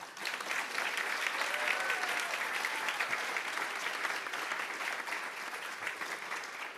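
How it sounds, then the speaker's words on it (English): A crowd at a nursing school pinning ceremony breaks into sustained applause, loud and dense, holding steady for about seven seconds with a slight fade toward the end. "give yourself another round of applause"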